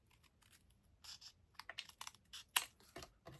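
Paper cardstock being trimmed for a handmade Stampin' Up! thank-you card, heard as a series of quiet, short crisp cutting and slicing strokes at close range, with one sharper snap near the end.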